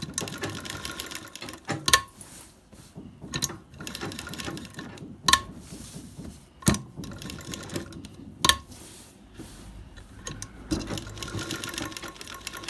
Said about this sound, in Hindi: हम मशीन को बहुत ही आहिस्ता आहिस्ता चलाकर इसको लगा रहे हैं